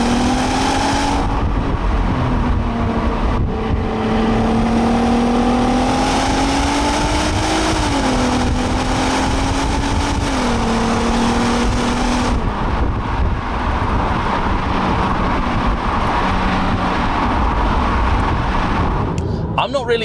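Engine drone from inside a moving 2005 Audi A3 3.2 Quattro, steady and loud, with the pitch rising and falling through gear changes as it drives along at speed.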